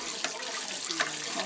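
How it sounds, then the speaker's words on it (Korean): Water running at a sink as a guest washes dishes in a home on a small Korean island, a brief, soft, steady splash and trickle, fairly close with no talk. "설거지는 손님이 하겠다고 나섰습니다"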